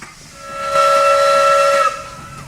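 A steam locomotive on a Burmese railway sounds a single sustained whistle, a steady, strong tone lasting over a second that rises in and cuts off, with a faint hiss underneath.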